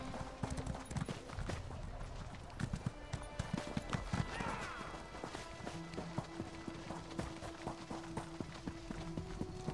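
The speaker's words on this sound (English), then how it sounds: "You're riding a horse." Rapid clip-clop of horse hooves trotting steadily in the video game Elder Scrolls Online, with occasional bright tones layered over the rhythmic beats.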